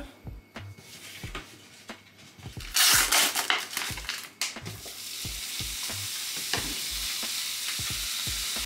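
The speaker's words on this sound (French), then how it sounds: "Donc là, il y a la viande qui cuit." Ground beef frying in a pan, a steady sizzle with regular scraping and knocking from stirring, and a louder burst of crackling partway through.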